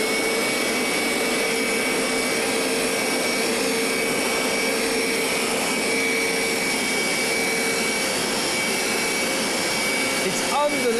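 A Vax Dual V upright carpet washer runs continuously, giving a loud, steady motor whine and airy suction roar from close by, unbroken throughout with a brief clatter at the end.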